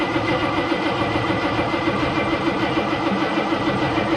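A Chevrolet El Camino engine cranks over steadily and loudly at close range with a continuous rhythmic churn throughout, without catching, while someone checks whether fuel is coming out.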